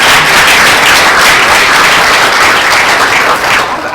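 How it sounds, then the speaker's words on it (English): Steady, loud applause from a symposium audience greeting a Distinguished Alumni Award recipient, dense clapping held evenly throughout before tapering slightly at the end. "Please give a round of applause for Ms."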